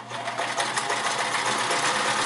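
A Sears Kenmore 158 series sewing machine runs steadily through a cam-driven pattern stitch, with a continuous close whirring motor and a rapid needle clatter, loud and alone.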